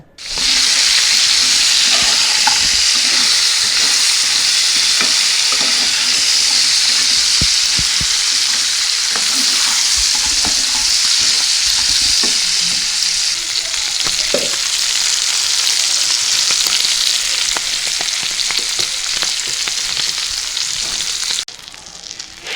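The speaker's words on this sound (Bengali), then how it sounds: "এখানে কাঁকড়াগুলো ভাজা হয়ে গেছে" Loud, steady sizzling of crabs frying in hot oil, a continuous crackling hiss that holds for the whole stretch before dropping away at the end.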